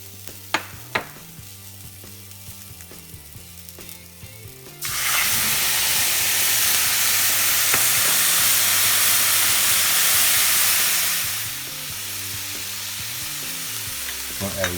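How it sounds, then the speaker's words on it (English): Carrots and broccoli hit a hot pan and break into a loud, steady sizzle that fills the middle of the clip, easing to a softer fry near the end, with stirring clatter before and after and no talking. "So now we're gonna saute the vegetables. First our carrots, and then broccoli."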